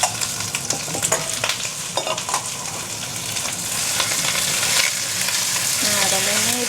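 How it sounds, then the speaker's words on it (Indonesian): Oxtail gets stirred through caramelised sugar in a hot pan, with a loud steady sizzle and frying hiss under repeated scraping strokes of a spatula, close up and with no talk. "Nah dan ini diaduk-aduk terus sampai rata semuanya guys, biar sampai si gulanya menempel ke semua buntut sapi ini."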